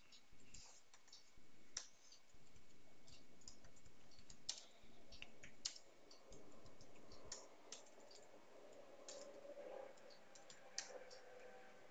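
Rapid keystrokes on a computer keyboard as Python face-recognition code is typed, irregular close clicking and tapping with brief pauses, no voices.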